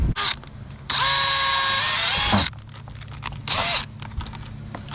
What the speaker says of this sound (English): let's go ahead and drill our 2 holes in the front lip to secure it to the bumper